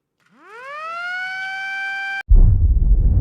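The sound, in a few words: ceremonial siren sounded at energy infrastructure inauguration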